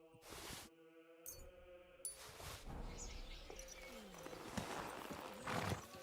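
Horse hooves clip-clopping in the video game Kingdom Come Deliverance 2, a steady run of hoof beats at moderate distance with game music and ambient bird calls around them.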